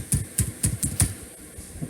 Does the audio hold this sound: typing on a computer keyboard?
yes